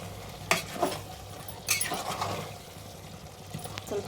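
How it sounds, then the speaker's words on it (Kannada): Salt being stirred into a rice dish in a pot during home cooking, heard as a few scraping spoon strokes and light clinks against the pan over a faint sizzle, close and fairly quiet. "ಉಪ್ಪು ಹಾಕಿ ಈಗ ಮಿಕ್ಸ್ ಮಾಡ್ತೀವಿ"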